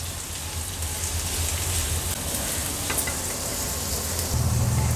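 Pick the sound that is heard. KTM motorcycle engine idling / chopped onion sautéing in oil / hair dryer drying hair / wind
chopped onion sautéing in oil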